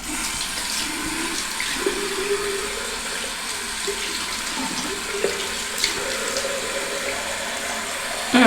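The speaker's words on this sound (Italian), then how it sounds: "andiamo a aggiungere un po' d'acqua" Water runs into a shaving cream bowl in a steady, faint trickle and splash from a tap, continuous throughout with a few small drips.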